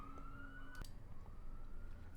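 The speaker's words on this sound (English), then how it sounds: "I got police sirens out there. Even they love it. They're doing their sirens, right?" Police car siren outside, faint and distant, a steady high wail holding and then shifting pitch after a sharp knock, over low room noise.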